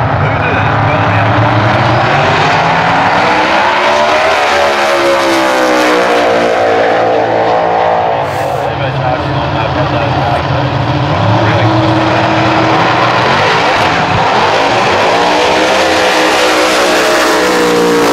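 Ford Cortina drag car with a twin-turbo V8 roars down the strip on a 7.19-second, 201 mph pass at a street machine event, its loud engine note rising and falling through gear changes, with crowd and announcer noise underneath.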